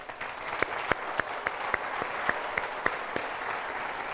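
Light applause from a seminar audience at a networking and marketing talk, a modest, steady patter with several sharper individual claps standing out, moderately close and without speech.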